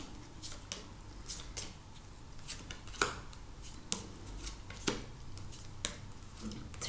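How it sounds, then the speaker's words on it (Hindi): Love oracle cards shuffled and drawn by hand for a tarot reading: soft, close papery riffles and flicks, repeated at irregular intervals and fairly faint, with no talking. "ओके, लव ऑरेकल से भी 12 कार्ड्स ले लेते हैं।"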